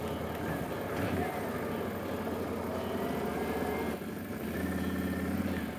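An ATV engine rumbles and rises slightly on throttle while winching out of a stuck spot, a steady mid-pitched drone with a brief dip before picking back up.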